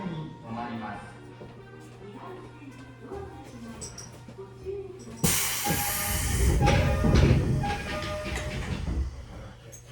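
Inside a Tokyo Metro 8000 series train, set 8104F with a Mitsubishi IGBT-VVVF inverter, running between Minami-Kurihashi and Sengendai: a low steady hum under a voice, then midway a sudden loud surge of rumbling and hissing running noise.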